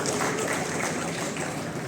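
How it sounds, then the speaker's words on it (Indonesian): Hall audience at a Rotary Club district conference in Yogyakarta, Indonesia, clapping together in a steady, moderately quiet wash of applause lasting a couple of seconds. "Tepuk tangan buat kita semua."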